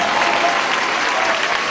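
Church congregation applauding, a dense steady burst of clapping at moderate loudness, short and continuous.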